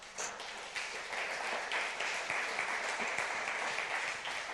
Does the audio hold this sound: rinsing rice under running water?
no